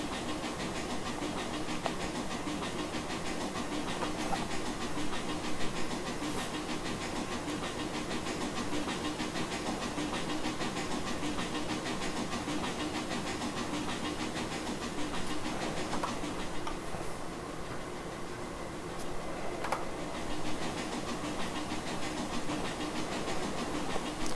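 Steam exhaust chuffs from a PRR L1s 2-8-2 Mikado locomotive in the Trainz railroad simulator, a steady rhythmic hissing exhaust over rail noise, continuous and fairly loud throughout with no talking.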